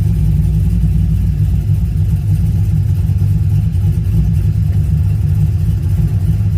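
A car fitted with a Nissan CD009 transmission drives forward, its engine a loud, steady low rumble held close and alone throughout, without speech.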